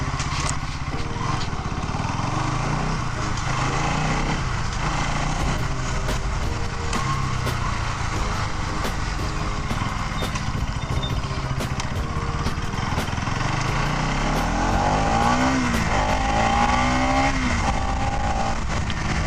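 A Bajaj Pulsar NS 200 BS6 motorcycle accelerating, its engine note rising and falling in pitch through the gears, with a continuous loud mechanical drone and wind rush close to the rider.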